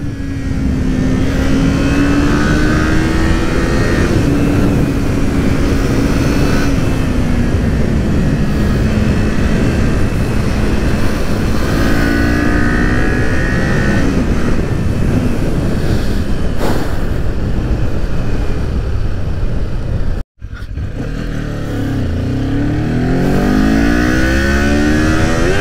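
Kawasaki Z motorcycle engine accelerating hard on a winding hill road, a loud continuous roar whose pitch climbs and resets through the gears, with a brief cutout near the end before it pulls strongly again.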